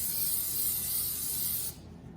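Food release spray hisses from an aerosol can onto a pie pan in one continuous, fairly faint burst lasting under two seconds, then stops.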